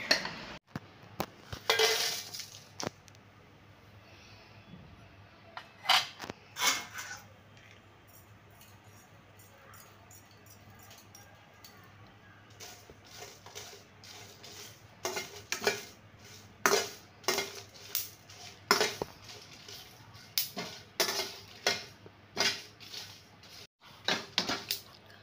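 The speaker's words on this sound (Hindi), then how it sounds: "अलसी को निकाल लेते हैं और सूखे मिर्चा डाल लेते हैं" Dried red chillies tossed and stirred in a pan after flax seeds are roasted, Hyderabadi-style cooking, with clinks and scrapes of a utensil against the pan coming in irregular bursts over a low steady hum, growing busier and more frequent toward the end.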